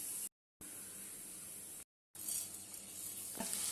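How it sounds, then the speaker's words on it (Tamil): Cashew nuts frying in oil make a close, continuous sizzle broken by two short gaps of silence, and the crackle grows slightly louder near the end. Nobody talks. "இப்போ முந்திரி பருப்பை வறுத்து எடுத்து வச்சுக்கலாம்"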